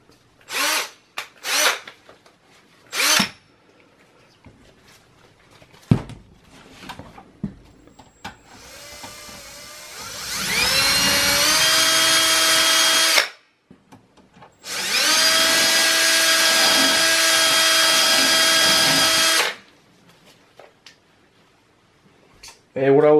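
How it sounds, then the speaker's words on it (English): Two sustained bursts of a power drill whirring loudly at close range, drilling holes in a Dell OptiPlex computer case, each several seconds long, with short knocks and handling sounds between them. "So what I will do is, I will drill one here in the top,"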